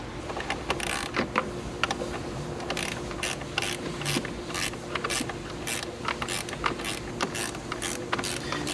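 A ratchet wrench with a 10 mm socket tightens the negative battery cable on a 2020 Toyota Corolla, rapid clicking bursts repeating in quick close strokes with brief pauses.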